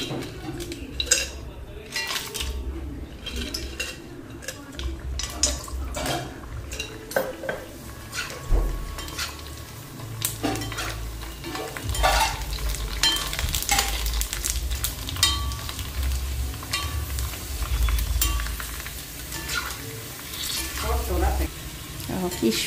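Fuchka puris frying in hot oil give a steady crackling sizzle, broken by frequent clinks and scrapes of a metal utensil against the pan and faint background voices.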